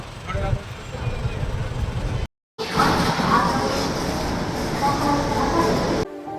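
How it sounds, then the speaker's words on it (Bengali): The Howrah–Ranchi Shatabdi Express pulls out of Howrah station in the early morning, with a loud, steady rumble and rail clatter heard from on board, broken by a brief cut, as voices talk over it. "আমাদের ট্রেন রওনা দিল হাওড়া থেকে ধানবাদের উদ্দেশ্যে"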